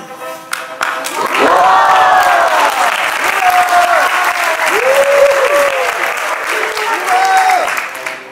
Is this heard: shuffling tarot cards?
no